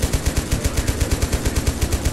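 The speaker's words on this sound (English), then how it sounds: "The machine gunners as suppression fire." Rapid machine-gun bursts laying down suppression fire in a Total Conflict: Resistance battle, a steady, evenly spaced stream of sharp shots, loud and close, with no talk over it.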